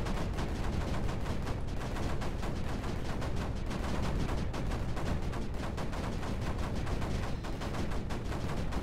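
Guns firing in the video game Creeper World 4, a dense, continuous barrage of rapid overlapping shots at steady loudness throughout with no talking.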